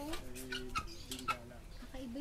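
A White Australorp chicken clucks and makes short pitched calls at close range on a farm, a few brief separate notes mixed with quiet background voices.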